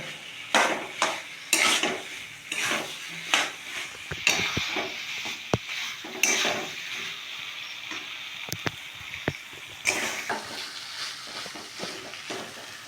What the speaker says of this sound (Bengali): 2-3 মিনিট একটু কষে নেবো ভালো করে।